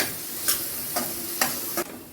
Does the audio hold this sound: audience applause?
no